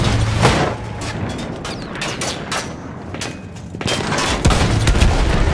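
Rapid bursts of sharp gunshots in the video game Battlefield 1, cracking out in quick succession, loud and close, with brief lulls between volleys.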